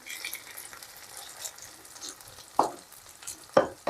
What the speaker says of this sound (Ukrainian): хай собі підсмажується до рум'яної скоринки